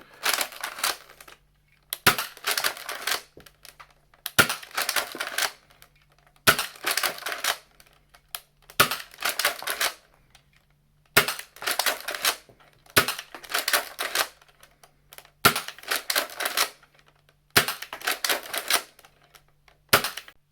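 Zuru XShot foam darts fired one after another from a Nerf-style blaster, about nine sharp clacking shots at roughly two-second intervals, each a loud snap followed by a brief rattling spring-and-plunger noise, close up with no talking.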